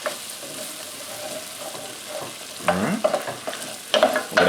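Diced green tomatoes are stirred in a pan of sizzling spice mixture, a quiet steady sizzle broken by a few louder scraping stirs of the utensil near the end.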